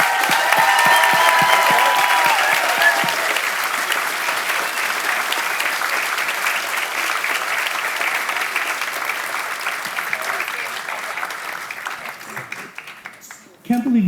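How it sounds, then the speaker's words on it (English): A large crowd at a community awards gala gives a loud, sustained round of applause, dense clapping with some cheering that slowly thins and fades out near the end before a voice comes in. "will you please join me in giving the loudest round of applause that you can for this group"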